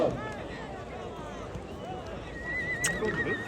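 Horses neighing during an ulak horseback game, shrill whinnies rising over a crowd's murmur and hoofbeats, with voices talking in the background.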